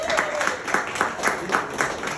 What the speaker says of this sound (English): Applaud right now if you haven't been to a Comedy City.